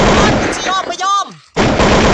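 Video game gunfire bursts out loud and close in short blasts before and after a shouted voice, with the shots filling the clip at high volume.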